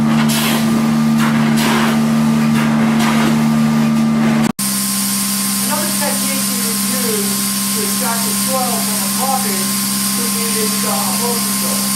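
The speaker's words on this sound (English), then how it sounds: "This is a typical kind of extraction that one can use in cleaning carpets wall to wall and also area." A carpet cleaning extraction machine drones steadily with a constant whine, loud and close, while a voice talks over it in the second half.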